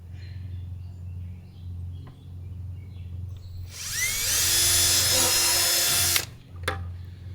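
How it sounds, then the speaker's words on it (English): A power drill with a 5/16 inch bit bores through a food-grade 5-gallon plastic bucket, a high shrill whine lasting about two seconds over a low steady hum, followed by a brief second burst. "I'm going to go ahead and drill them all out now"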